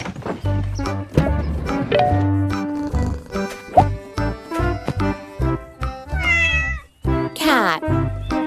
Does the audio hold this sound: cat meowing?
yes